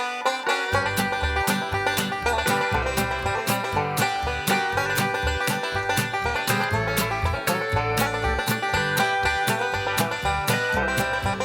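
A self-made podcast theme tune plays back on its own, a steady full-band piece with a driving beat and sustained melody throughout, loud and continuous with no talk.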